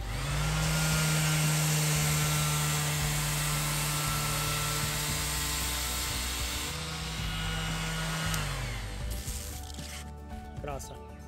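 Ryobi R18 ROS cordless orbital sander chamfers the edge of a piece of wood, a loud, steady whirring drone with grinding friction that runs almost the whole time and eases off near the end.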